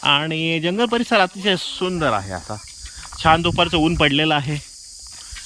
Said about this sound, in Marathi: रातकिड्यांची किरकिर तुम्ही आवाज ऐकू शकता